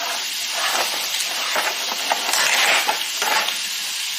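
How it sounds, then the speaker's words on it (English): Bacon sizzles steadily in a hot frying pan, a dense close hiss laced with small crackling pops, running continuously with no talking. "Ooh, you hear that sizzle?"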